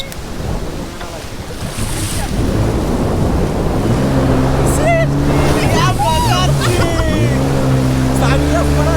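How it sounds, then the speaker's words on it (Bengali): Jet ski speeding over the sea at Cox's Bazar, its engine a loud steady drone with rushing water and wind noise throughout, while people talk over it. "আমরা এখন ওয়াটার বাইকে।"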